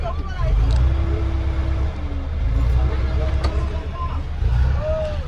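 A car stuck in mud near tractors in waterlogged ground revs its engine loud and close as it pulls free, with people talking and calling out over the motor.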